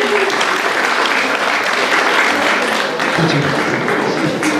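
An audience applauding a performer at a holiday concert for March 8 in Kryvyi Rih, loud sustained clapping filling the room with faint murmuring underneath.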